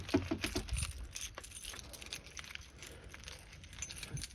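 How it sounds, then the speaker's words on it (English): Van keys jangle and clink close by in a quick metallic rattle, followed by faint scattered rustling and a final clack. "when I'm not dropping my keys."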